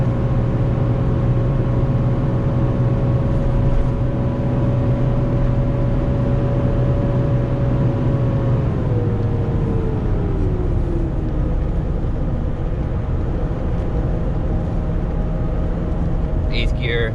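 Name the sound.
450 truck hauling heavy uphill, fans running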